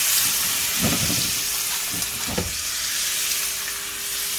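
Pork chops sizzle in a cast iron pan as they are basted with butter, a loud continuous hiss with a few sharper spoon-spattering bursts and no one speaking.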